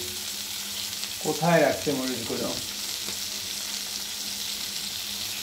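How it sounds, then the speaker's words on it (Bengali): Fish, small sharputi, sizzling as it fries in a pan in a home kitchen, a steady soft crackle throughout, with someone briefly speaking over it near the start. "রান্না করতেছি বলতে কি যে জাস্ট মাছ ভাজা করতেছি"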